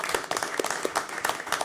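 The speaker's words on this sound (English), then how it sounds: "we can applaud first" Audience at a university board of trustees meeting claps briefly, a sparse scattering of soft handclaps at moderate distance.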